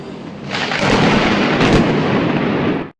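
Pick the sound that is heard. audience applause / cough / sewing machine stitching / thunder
thunder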